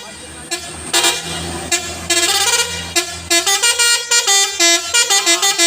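A truck's telolet musical horn blares in a series of loud, close melodic toots, at first in longer tones and then in quick rhythmic bursts, with an engine rumbling underneath.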